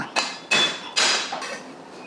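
Three sharp, knocking thumps on a board, spaced roughly half a second apart, as green onion stalks are crushed with a flat blade; close and clear.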